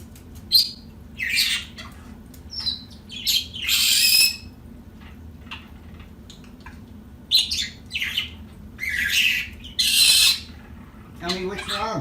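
A red-winged blackbird squawks and chatters in repeated harsh, raspy bursts, close by and loud, with brief gaps between calls.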